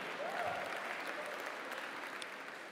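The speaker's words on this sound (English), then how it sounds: "That got applause." Steady applause from an awards-show audience at the Webby Awards, a dense wash of clapping held at an even level for a few seconds, fairly quiet and distant, with a faint voice briefly rising over it.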